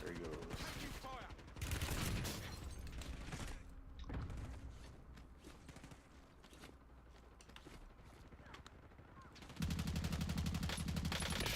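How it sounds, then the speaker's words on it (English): Video game gunfire in a squad-based shooter, bursts of rapid shots and explosions over a dense, continuous battle soundscape, with some voice chatter in the mix. "Taking fire."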